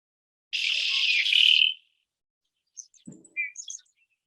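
Birds sing at an Iowa prairie strip site in a field recording: a long buzzy trill, then a scatter of short high chirps and whistled notes, clear against quiet surroundings.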